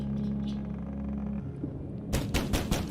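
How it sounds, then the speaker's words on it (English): Heavy, loud pounding on a wooden door in The Pale Beyond video game: a quick burst of several forceful knocks arriving abruptly after a low steady hum. "There is a loud banging on your door"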